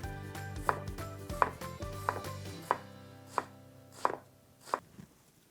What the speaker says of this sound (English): We're gonna cut it in half and we're gonna slice it this way.